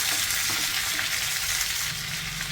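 Cluster beans being stirred in a frying pan give a steady, close hiss of frying with faint scraping of the stirring, running evenly throughout with no talking.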